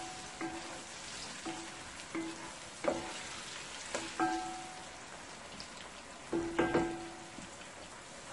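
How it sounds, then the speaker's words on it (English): Onion, garlic and chili pepper sauté in a pan for a Guyanese dhal, a soft crackling sizzle broken by scattered light pops and a few louder spits, with no talk. "I'm going to let this onion, garlic, and chili pepper saute it for about 2 to 3 minutes"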